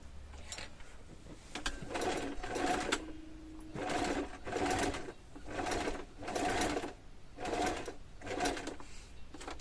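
A sewing machine runs close by, stitching fabric scraps in about six even, whirring bursts with brief quiet gaps between them.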